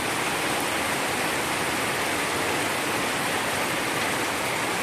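Heavy rain pours down outdoors in the Philippines, a dense, loud, unbroken hiss that fills the whole stretch, with no voices or other sounds cutting through.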